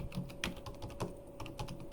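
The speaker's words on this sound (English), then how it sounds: "hold on, I'm typing that in." Rapid typing on a computer keyboard, with irregular bursts of close, crisp key clicks and a steady faint hum beneath; no one speaks.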